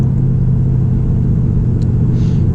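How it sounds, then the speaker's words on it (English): Ford Mustang GT pulling hard through the gears on a twisty road, a steady loud low engine rumble that holds without a break, heard close from inside the car, no voices. "the second it hit second gear, I just mashed the throttle"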